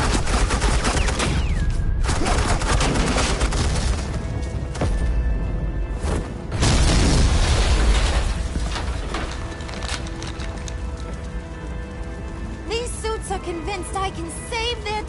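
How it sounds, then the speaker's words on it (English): Suppressing gunfire rolls through a scene in Batman: The Enemy Within, loud bursts and volleys with sharp impacts, stretching across several seconds before the shooting thins out into scattered noise. "Suppressing fire."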